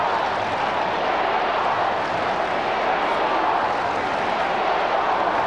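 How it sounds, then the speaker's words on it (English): A stadium crowd at an AFL football match between West Coast and Melbourne roars in a sustained, even wash of cheering, loud and unbroken from start to finish. "So the crowd finding voice."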